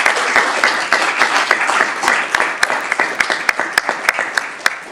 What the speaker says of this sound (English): So if we could give a nice round of applause for our IT department.